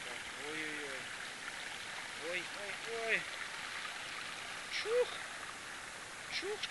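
Gentle flowing water trickles steadily in the background while a few birds chirp and whistle briefly overhead; the stream stays soft and continuous, a river crossing on a hike up Hoverla.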